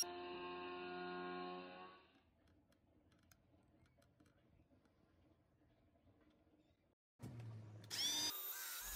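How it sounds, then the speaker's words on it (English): A power drill whines steadily while countersinking and pre-drilling holes in the underside of wooden folding step stool legs, then stops, leaving quiet ticking, before another loud burst of drilling near the end. "Here I countersink and pre-drill two holes on the underside of the two legs."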